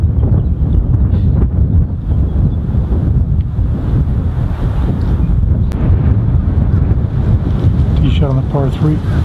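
Strong wind batters the microphone on a golf course, a loud, constant roar and buffeting that lasts throughout. A voice is faintly heard near the end.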